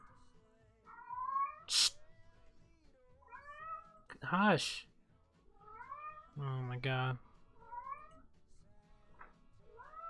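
A house cat meows and cries repeatedly in rising, wavering calls, loud and near, one drawn-out wail among them, while a person shushes it and speaks briefly between the cries.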